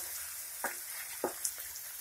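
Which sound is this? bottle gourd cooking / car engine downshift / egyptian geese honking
bottle gourd cooking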